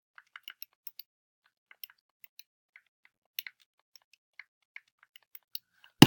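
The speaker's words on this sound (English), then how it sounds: "You're just typing them and hitting Enter." Sparse, light plastic clicks of calculator keypad buttons tapped one at a time at an irregular pace while entering numbers, close and quiet, ending with a sharper knock.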